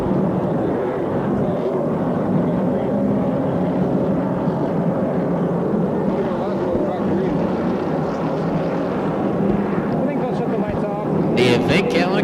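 Ford pace car leads Super Late Model race cars around the track under caution, a dense continuous roar of several engines that holds steady and loud throughout.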